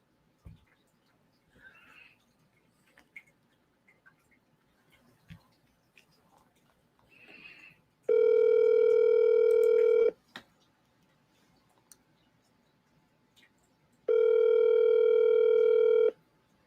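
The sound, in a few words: outgoing telephone call ringing before going to voicemail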